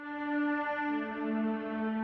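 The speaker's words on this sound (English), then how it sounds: "and the B layer is Atmosphere Strings Ambient." Sustained ambient string pad from the Atmosphere Strings Ambient sample layer in the Omnisphere synthesizer, a soft, steady chord that holds smoothly with a slight swell and no other sounds.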